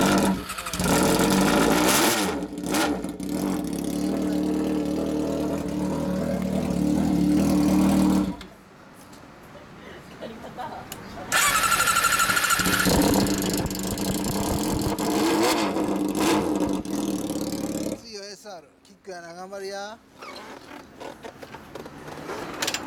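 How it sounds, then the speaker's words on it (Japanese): A 1993 Yamaha XJR400 motorcycle engine revs repeatedly, loud and close, its pitch rising and falling through several throttle blips with brief idle pauses between. "こっからエンジンを聞かせてもらおうかな"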